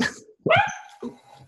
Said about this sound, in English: sorry about my dog before.